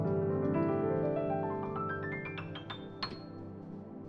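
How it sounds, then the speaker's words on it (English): Fast ascending pentatonic run on piano with the sustain pedal held, notes blurring into a ringing wash that climbs steadily higher and fades softly at the top. "but when I hold my step on my sustain pedal and play it very fast"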